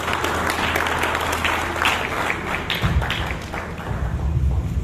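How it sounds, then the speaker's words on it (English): Audience at a Nigerian business summit and exhibition claps in a sustained, moderately loud round, with hand claps blending into a crowded wash and some heavier thumps and shuffles mixed in. "Please, can we clap for him?"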